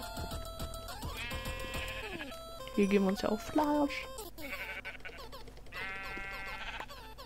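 Sheep bleat in the video game Minecraft, two or three short wavering calls near the middle over game sounds, while someone talks in German.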